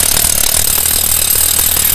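Electric rotary hammer drill with a carbide-tipped bit boring into material, a loud, steady rapid hammering rattle close by with no pauses.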